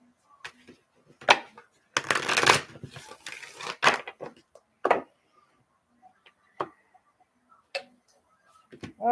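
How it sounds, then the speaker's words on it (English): Tarot cards being shuffled close by, with a longer riffling burst early on followed by scattered single card taps and clicks amid quiet pauses. "Let me shuffle these."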